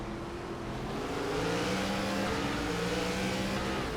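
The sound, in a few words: ARCA stock cars spinning tires, RPMs going up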